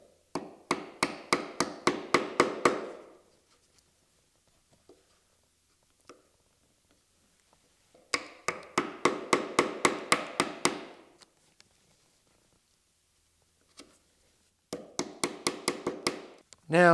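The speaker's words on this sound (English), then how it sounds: "And now listen to my chisel. It snaps into my scribe line." A woodworking chisel seats into a scribe line while cutting dovetails, giving three quick bursts of close, crisp, evenly spaced taps with quiet pauses between them and a few isolated knocks.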